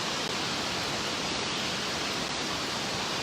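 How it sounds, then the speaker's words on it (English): Steady, dense pouring rain hisses without pause at an outdoor summer festival on the Atlanta BeltLine, a loud, even wash of falling water. "it's raining again"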